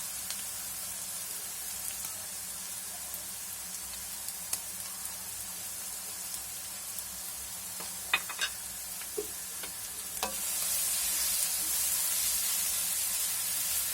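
Curry leaves and slit green chillies hiss and sizzle in oil in a frying pan, a steady close frying crackle with a few sharp pops, growing noticeably louder and brighter toward the end.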